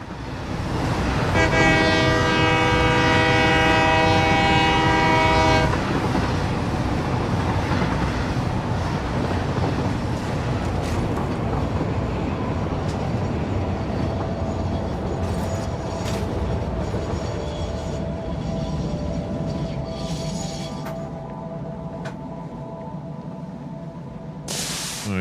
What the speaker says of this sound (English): It's the longest train I've ever done.